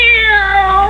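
A single drawn-out cat meow, loud and close, sliding slowly downward in pitch over about a second; from an old-time radio comedy broadcast.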